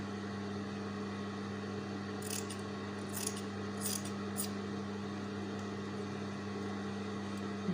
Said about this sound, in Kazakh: Тоғызда 9 квадратымызды да 3 бұрыштап кесіп аламыз.